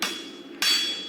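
A hammer forges hot steel tongs flat on the anvil, giving two close metallic blows, the second louder and ringing on briefly.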